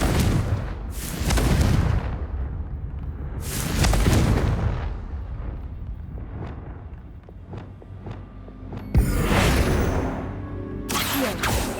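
Confringo blasting spells explode in Hogwarts Legacy: three separate booming blasts with roaring crackle, spaced a few seconds apart, with lighter clatter and footsteps between them, close and loud, and no talking.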